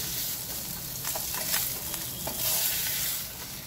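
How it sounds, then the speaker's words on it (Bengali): Fish being lightly fried in a pan gives a faint, steady sizzle with brief hissing surges and soft stirring sounds, alone without talk. "মাছটাকে এখন হালকা ভেজে নেব।"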